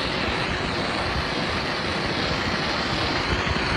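A torch roars steadily and loudly as it burns timber cladding for shou sugi ban charring. The hiss is continuous and close, with no pauses.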